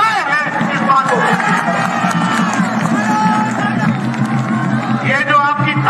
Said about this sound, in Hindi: ये जो आपकी तालियां हैं,